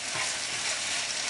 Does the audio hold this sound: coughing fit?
no